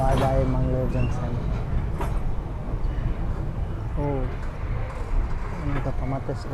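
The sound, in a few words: Mangalore–Mumbai express train slowing down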